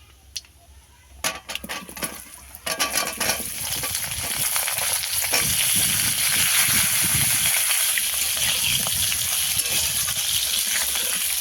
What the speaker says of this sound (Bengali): আলুটা আমি একটু ভালো মতো ভেজে নেব।